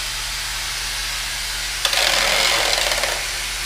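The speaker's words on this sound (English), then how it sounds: "The vacuum will turn on automatically." The vacuum on an SP1 automatic splicer switches on with a sudden airy hiss that lasts about a second before cutting out, over a constant low machine hum.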